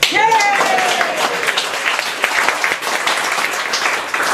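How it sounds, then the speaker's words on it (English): A book launch crowd claps for the BSFA: a full, loud burst of applause that starts strongly and holds as a thick, continuous wash of hands for a few seconds. "And a round of applause for the BSFA."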